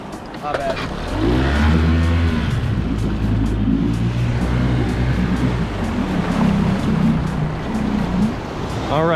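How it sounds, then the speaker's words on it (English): An outboard motor on a small fishing boat starts up during a surf launch at La Jolla and settles into a steady, droning idle, loud and close, with rushing water and wind noise throughout. "so I'll let the motor warm up for a little bit. Now that it's started"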